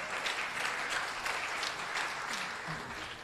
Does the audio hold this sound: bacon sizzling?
no